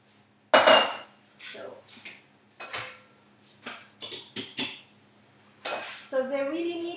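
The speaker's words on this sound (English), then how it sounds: "I'm gonna put a tiny bit of salt and mix them until they become really hard." Metal whisk or utensil clinking against a bowl while egg whites and salt are mixed, in irregular sharp taps and short rattling bursts, close up, with a voice briefly speaking near the end.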